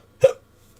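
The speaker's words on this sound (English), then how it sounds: "I've got the hiccups." A single sharp hiccup, close and fairly loud, with a quick voiced catch that cuts off abruptly, followed by near silence during a tabletop Dungeons & Dragons session.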